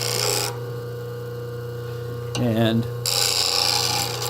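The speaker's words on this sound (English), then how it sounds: "So I'm going to go ahead and touch this to the wheel, change my angle slightly" A woodworking tool's edge is ground on a sharpening wheel. The motor hums steadily throughout, with a harsh rasping grind in short contacts at the start and end and a brief voice in the middle.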